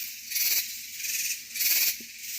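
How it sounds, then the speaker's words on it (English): Cicadas in the woods drone in loud, pulsing bursts, three swells of high shrill buzzing rising and fading over a steady insect hum, with no talk. "Yeah, it's that and the cicadas."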